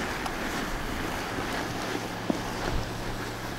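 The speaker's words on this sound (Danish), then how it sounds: "En frisk vind op af skrænterne her." Fresh coastal breeze gusting up the slopes above Ebeltoft Bay in Denmark, a steady broadband wind rush buffeting the microphone, with a couple of faint clicks and no talk.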